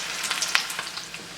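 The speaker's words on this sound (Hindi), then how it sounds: "तो देख लें परफेक्टली हाई फ्लेम पर ये फ्राई अप हो रहे हैं।" Coated chickpeas frying in hot oil over a high flame for a dhaba-style chana fry: a steady, close, bright sizzle with small crackling pops and no voices.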